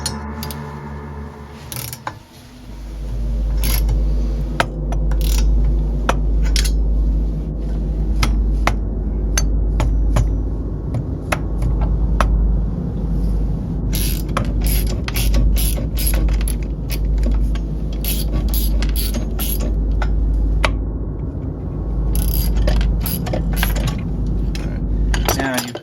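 Metal parts clank and rattle inside an RT1B transmission during a repair, a near, busy run of clinks, knocks and ratcheting over a steady low hum, with repeated sharp metallic hits throughout.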